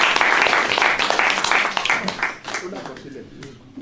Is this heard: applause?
yes